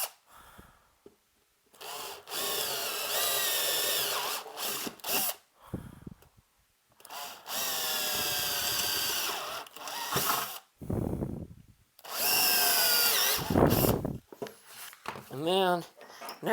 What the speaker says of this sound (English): So we're going to drill these out.